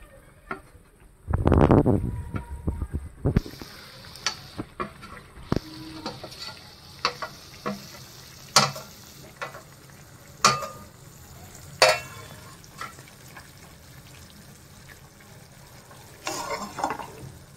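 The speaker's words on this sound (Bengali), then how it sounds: "আর কুঁদরিগুলো যে নেড়ে রেখেছিলাম এগুলো সবই দিয়ে দেবো।" Ivy gourd and fried fish hit a hot pan of spiced oil with a loud burst of sizzling, then settle into a quieter fry broken by sharp clicks and scrapes of stirring.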